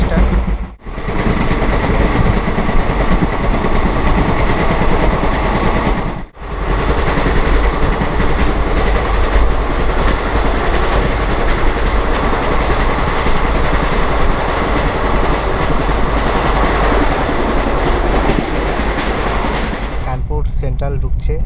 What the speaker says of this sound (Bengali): তো ট্রেন ভালোই গতিতে চলছে এখন